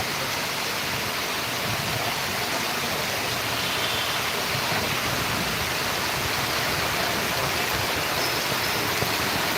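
Heavy rain falls in a farming village, a dense, steady hiss that stays loud and unbroken throughout with no voices.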